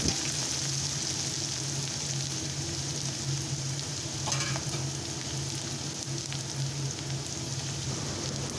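Garlic and chili sizzling steadily in a little oil in a pan, a constant crackling hiss with no talk, continuous and close.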